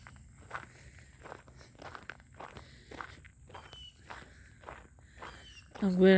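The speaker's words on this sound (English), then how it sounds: "And you hear the gravel under my feet." Footsteps crunch on gravel in a steady, close walking rhythm, each step a short gritty scrunch, with quiet outdoor ambience around them.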